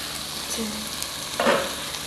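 Khichuri simmering in a pot gives a soft bubbling sizzle, with a brief clatter as the lid is lifted and a single stir partway through.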